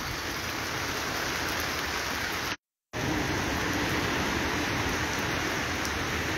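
Steady, heavy early-morning rain pours over San Juan del Sur bay in Nicaragua, a dense continuous hiss broken by a brief gap of silence, with no voices.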